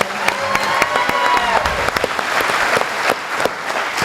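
Audience applause for a panel at a 2012 congressional debate, steady dense clapping over about four seconds, fairly loud, with a spoken introduction faintly running beneath.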